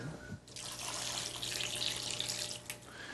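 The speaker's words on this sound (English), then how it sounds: "I'm going to pour about half a bottle in. And some broth, some chicken broth." White wine and chicken broth poured into a cooking pan, a steady, close liquid rush lasting a few seconds with no talk over it.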